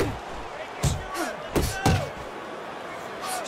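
Punches land in the Fight Night Champion boxing video game, several thudding impacts in an irregular cluster, with a commentator's voice running underneath.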